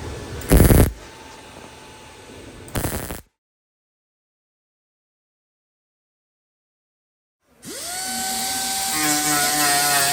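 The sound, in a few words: grinding welds on truck rocker panel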